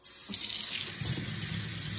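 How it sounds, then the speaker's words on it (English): Water runs from a tap as hands and a printer ink-refill syringe are rinsed beneath it, a steady close splashing gush that starts abruptly and shifts slightly as the stream hits skin and plastic. "So I'll rinse my hands and the syringe like this."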